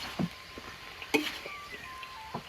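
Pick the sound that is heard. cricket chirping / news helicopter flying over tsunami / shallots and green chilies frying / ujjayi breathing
shallots and green chilies frying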